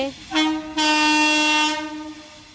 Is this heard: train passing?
yes